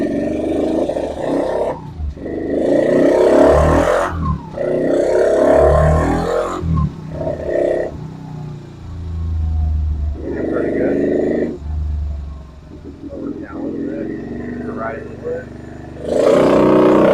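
A Honda TRX90X ATV engine idles and revs in bursts, loud and close, with its throttle rising and falling between quieter gaps.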